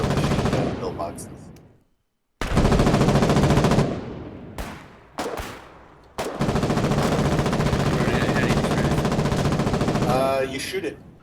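Machine gun fire in the war video game Foxhole rattles in long, loud sustained bursts, broken by a brief silence and a few short staccato volleys, close and dominant with faint voices underneath.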